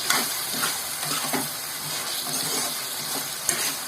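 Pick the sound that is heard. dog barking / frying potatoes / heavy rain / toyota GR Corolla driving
frying potatoes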